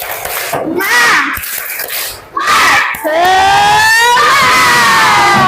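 A classroom of children cheers and shouts together in loud, energetic bursts, their voices ringing close and full with a brief dip in the middle.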